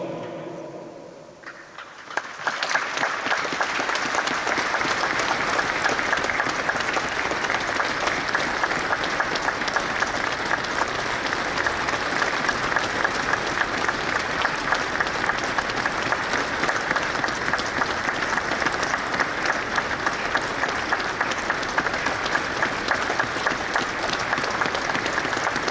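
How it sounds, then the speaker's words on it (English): A stadium crowd at Anfield applauds in tribute to Ian St John before a Liverpool versus Chelsea match. The dense, sustained clapping swells in after a brief quiet start and holds loud and steady for the whole stretch. "Please now join us in a period of applause as we pay our respects to the great"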